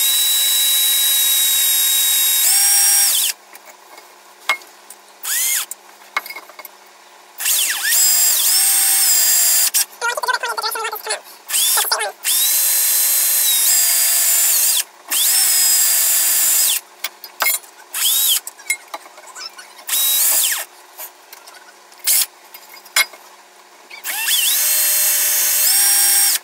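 A power drill bores into a wind chime ornament piece in repeated bursts, loud whining spins starting and stopping over and over with short quiet gaps between them.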